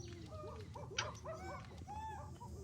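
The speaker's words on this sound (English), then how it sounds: "the African wild dog." Game animal sound of an African wild dog in Zoo Tycoon, a run of chirping, twittering yips and whimpers at moderate level, with no speech.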